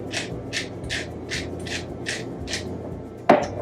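Pepper ground over potatoes with a clove of garlic in an RV kitchen: about eight quick, evenly spaced grinding strokes up close, then a sharp tap near the end.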